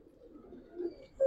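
Giribaz pigeons cooing softly, a low, faint murmuring coo that swells slightly before a brief sharper sound at the end.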